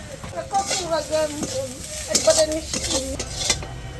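Onion, garlic and black cumin sizzle in a pan while a spoon scrapes and stirs in quick strokes, close up, with a voice talking over the cooking sounds.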